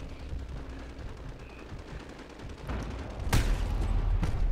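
Enemy gunfire in the Modern Warfare video game, mostly a low rumbling background of distant shooting and then two sharp, loud bursts near the end.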